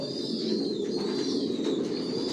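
Racing pigeons coo in a loft, a soft continuous murmur of low throaty calls from several birds close by, with no talk.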